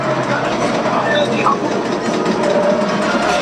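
A train rumbles and clatters continuously at close range in the Star Wars Millennium Falcon VR game, a dense steady roar with no voices.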